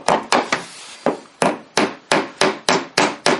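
A hammer drives black number 6 trim nails into a wall stud with about ten sharp, evenly spaced blows, each a crisp close knock ringing out briefly before the next strike.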